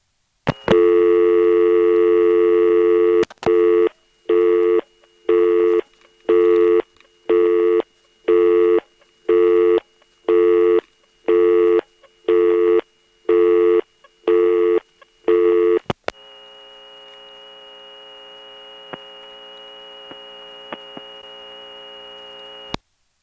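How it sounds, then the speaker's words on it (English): An NX2 crossbar telephone exchange from 1978 gives a steady tone, then a loud busy signal pulsing on and off about a dozen times in an even rhythm, cut by its interrupter, before settling into a quieter continuous hum with faint clicks. "You can hear the squeaking noises the interrupter makes"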